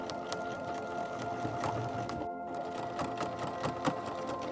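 Sewing machine stitching along a folded fabric edge while sewing a Simplicity S3189 pattern, a steady rapid mechanical whirr with rhythmic needle clatter running throughout, close and fairly quiet, briefly pausing midway before resuming.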